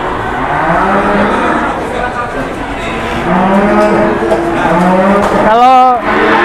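Cattle at an Indonesian livestock market, including a lean, thin cow, low drawn-out moos repeating close by over constant crowd murmur, ending in a loud rising bellow.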